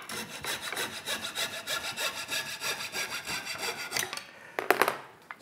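A hand saw cuts through wood clamped in a vise, making close, rhythmic rasping strokes about two per second, then a few sharper scrapes as the cut finishes, for Windsor chair making.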